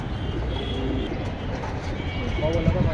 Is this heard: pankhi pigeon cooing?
yes